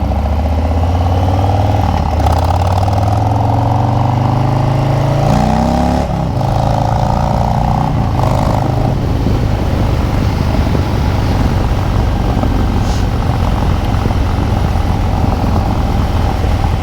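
A 2020 Harley-Davidson Low Rider S motorcycle engine rumbles steadily during a night ride, its low drone rising and falling with throttle and gear changes, loud and continuous with wind noise.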